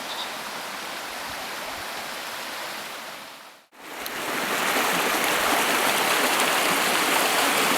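Water rushes steadily down a high pressure pipe into the turbine house at Blackpool Mill, a broad, loud hiss with a brief dropout midway before it resumes fuller and louder, with no voices.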